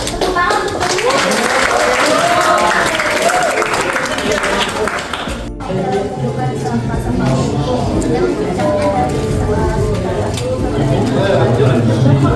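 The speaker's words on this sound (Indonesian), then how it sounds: "Tepuk tangan untuk" Students at a school outreach session on composting clap loudly and continuously, mixed with children's chatter and lively voices; the clapping stays dense throughout with a brief dip partway before resuming.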